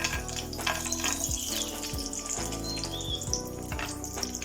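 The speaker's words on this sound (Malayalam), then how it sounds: "ഇതിലേക്ക് വേണ്ട അണ്ടിപ്പരിപ്പ്, മുന്തിരിങ്ങി കുറച്ച് നന്നായിട്ട് ആദ്യം വറുത്തെടുക്കാം." Cashews and raisins shallow-frying in hot oil for a fried chicken biryani, a steady close sizzle with occasional clinks of a utensil against the pan.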